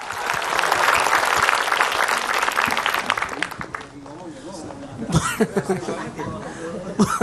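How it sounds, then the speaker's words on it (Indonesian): A crowd claps loudly and steadily for several seconds, then the applause fades into scattered chatter, laughter and a few coughs. "Silakan tepuk tangan buat Ustadz Maulana."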